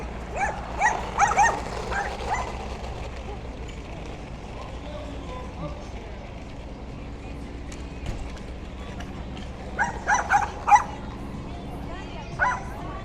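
A dog on a Brooklyn street during the Bay Ridge 5th Avenue street festival yaps and barks in two short bursts of several sharp yips, moderately close over steady crowd and street noise.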